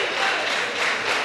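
A crowd cheers and applauds at an independent wrestling show in Villa Park, a dense, steady roar of noise that fills the whole short stretch.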